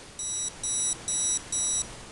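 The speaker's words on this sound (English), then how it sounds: "And that's one solid long beep." Four evenly spaced electronic beeps from a Hobbywing Skywalker 20A ESC in programming mode, each about a third of a second long, high-pitched and clear against a soft background hiss.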